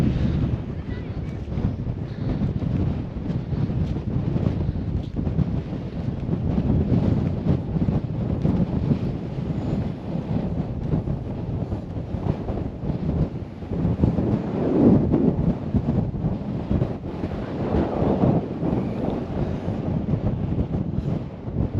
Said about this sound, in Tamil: செம்ம காத்துங்க, ஆனால் சரியான காற்று.